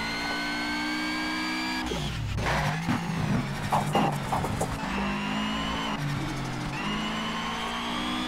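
A Subaru Impreza race car engine in the racing game Shift 2 at the Nürburgring, revving hard with rising and falling pitch through gear changes, loud and close with no talking.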